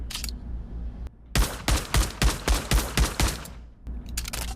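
Rapid pistol shots from a compact Makarov-style Russian handgun in the VR shooter Pavlov Shack: a brief shot or two, then a steady string of about nine sharp, loud cracks fired in quick even rhythm, and a few more at the end.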